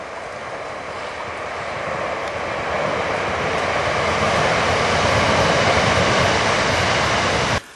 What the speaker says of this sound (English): train coming along, very close to the railway tracks this wood